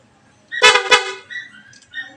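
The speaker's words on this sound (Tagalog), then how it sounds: "Tapos, in-install ko na rin yung kanyang busina." A newly installed car horn with a switch blares in two quick, loud blasts close by, followed by quieter tonal sounds that trail off.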